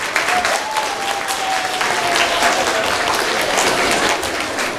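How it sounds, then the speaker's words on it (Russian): A crowd claps loudly and evenly throughout, close and full, at a primary-school graduation ceremony, with a faint tone drifting beneath the applause. "Давайте мы ее поприветствуем аплодисментами."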